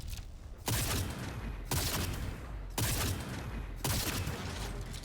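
Sniper rifle in the video game Cyberpunk firing heavy bursts, four loud booming volleys spaced about a second apart, each ringing out with a long decaying tail, no talking over it.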